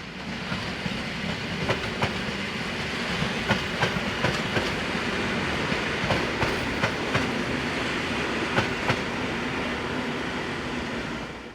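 A locally based Class EN57 electric multiple unit running on rails in Poland, a steady close rumble and hiss with regular clickety-clack wheel beats over the joints, and no talking.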